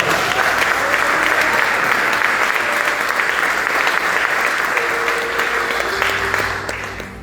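A church congregation bursts into loud, sustained applause, dense clapping filling the room steadily for several seconds with faint voices mixed in.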